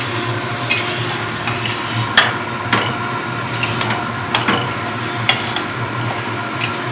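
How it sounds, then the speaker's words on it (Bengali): Chicken stirred and fried in a pan: a low sizzle underneath, with sharp spatula knocks and scrapes against the pan arriving every half second or so, close and clear, no voices. "এভাবে ভালো করে নেড়ে ছেড়ে নিয়ে চিকেনটা ধরে ধরে কষাতে হবে।"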